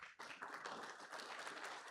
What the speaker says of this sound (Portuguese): Quero que vocês recebam a Marilene com muitos aplausos